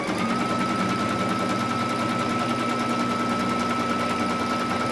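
A sewing machine stitches a crivo openwork border for a Mother's Day hem, a loud, steady rapid mechanical rattle and hum running continuously and close up with no talk.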